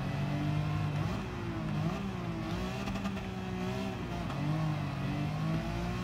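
A BMW M3 GTR racing in Need for Speed Most Wanted, its engine note dropping and rising again as it downshifts, a loud, steady in-car drone with no voices.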